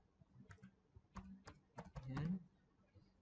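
Typing on a computer keyboard: several quick clusters of key clacks, close and faint, with a brief murmur of speech near the end.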